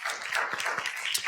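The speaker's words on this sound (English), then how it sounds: "Round of applause for our judges as well." Applause for the judges at the close of a pitch competition event, heard as a short burst of light scattered clapping from a modest audience, fairly close and without talk.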